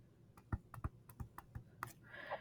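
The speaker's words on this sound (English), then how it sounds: "So here's what you would type in the calculator." Buttons on a calculator are pressed in a quick series of about eight crisp, close clicks, followed by a brief faint rustle, in a quiet room.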